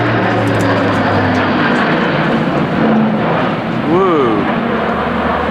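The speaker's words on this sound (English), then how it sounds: "Plane flying over or something." A large aircraft flies low overhead above a farm where heifers are being brought in, a loud continuous engine roar filling the clip and swelling near the end, with people exclaiming over it.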